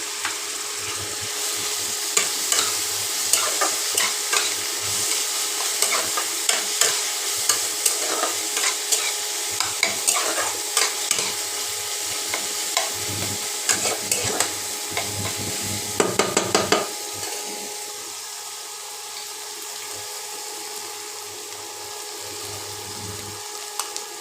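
Ginger and garlic paste fries for ghugni in a hot pan, a loud close sizzle broken by repeated scraping stirs, then quieter steady frying toward the end.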